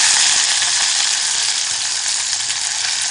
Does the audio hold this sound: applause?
no